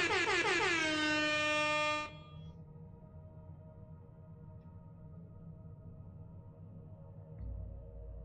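A loud, blaring air horn sounds one long blast for about two seconds, then cuts off, leaving quiet background hum.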